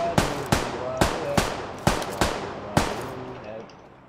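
Gunfire in the battle royale game PUBG Lite: six sharp, evenly spaced single shots over about three seconds, loud and close, each with a short decaying tail, no talk heard.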